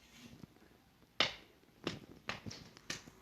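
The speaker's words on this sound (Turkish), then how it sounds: "Alkışlama sesleri geliyor arkadaşlar." A handful of sharp, close claps land at irregular intervals, one loud slap followed by several quicker, softer ones over a quiet background.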